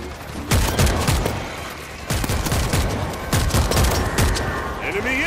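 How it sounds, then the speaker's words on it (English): Auto turret firing in a World War Z game set in South Korea, loud rapid bursts of shots with booming low thuds, close and continuous amid game noise and a voice calling out. "Auto turret running."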